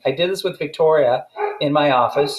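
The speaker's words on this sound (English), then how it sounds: "you can hear the dog barking in the background." A dog barks a few times in a home office, short yips and woofs mixed under and between a person talking close to the microphone.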